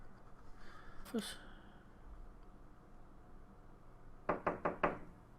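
In a video game, a hand knocks four quick times on an office door, crisp and fairly close, with loud music from inside the room. A brief rustling sound comes earlier.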